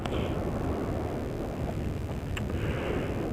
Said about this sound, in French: Attends, parce que j'ai le vent.